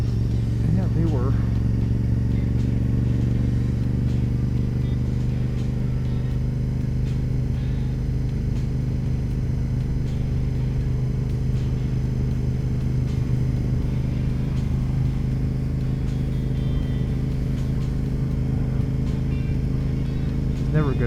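A motorcycle ridden along bumpy rural roads on Campbellville Road, its engine a steady close drone throughout with faint rattles and clatter, and wind-like rumble underneath.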